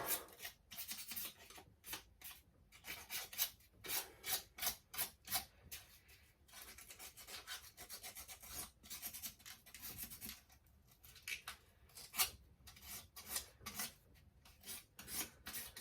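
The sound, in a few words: rubbing down a car engine part with a coarse abrasive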